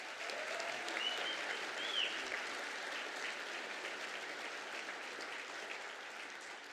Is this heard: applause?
yes